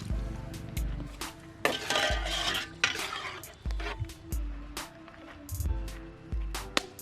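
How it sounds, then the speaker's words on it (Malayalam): A spoon scrapes and clinks repeatedly against a pan as a chilli fish mixture is stirred, giving a series of close, uneven metallic knocks and thick wet shuffling. "വീണ്ടും ഒന്നുകൂടെ ഒന്ന് നന്നായിട്ട് ഇളക്കി ചേർക്കുക."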